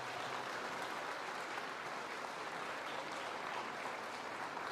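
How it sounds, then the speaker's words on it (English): Audience applause for a six-member JROTC drill team at a school Veterans Day assembly, an even, sustained patter of many hands heard from a distance with no speech. "Let's give the JROTC a big round of applause."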